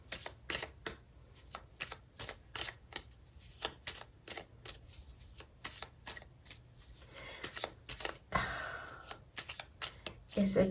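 Tarot cards shuffled by hand for a love reading: a rapid, irregular run of crisp riffling and slapping card sounds, close and fairly quiet, with a louder rustle near the end.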